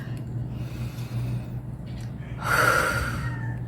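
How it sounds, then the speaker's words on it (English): A single deep breath drawn in close to the microphone, a short rushing inhale that swells and fades over a low, steady background hum. No one speaks. "And then I take a deep breath"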